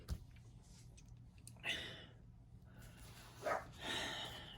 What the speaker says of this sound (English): They're just very annoying, yipping dogs.